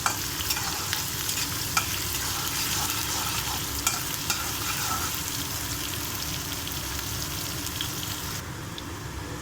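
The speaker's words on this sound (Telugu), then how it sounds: "పచ్చిమిర్చి, కరివేపాకు వేసేసుకుందాము. ఉల్లిగడ్డ కూడా వేసేసుకుందాము. కలిపేసుకుందామండి." Green chillies, curry leaves and chopped onion sizzle steadily in hot oil for besan curry, with repeated scraping and stirring clicks from a spoon in the pan, close and continuous without any talk.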